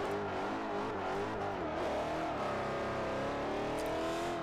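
A V8 car engine in Forza Motorsport 4 revs loudly and continuously, its pitch sweeping up and down through gear changes with a steady droning roar and no voices.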